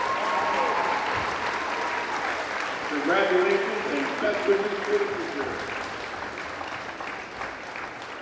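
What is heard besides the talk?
crowd applause for graduating seniors at basketball game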